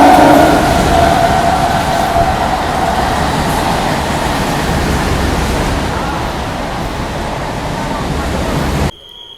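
The 12711 Pinakini SF Express pulling out of Bapatla station, a loud continuous roar of rolling wagons and wind rushing past, steady for several seconds before cutting off abruptly near the end.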